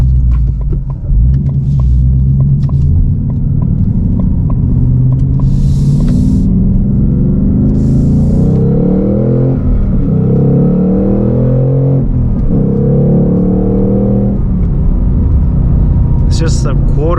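Deep rumbling engine of a new 2023 Ford Mustang Mach 1 V8 pulling under light throttle, steady and loud from inside the car, with someone talking over it.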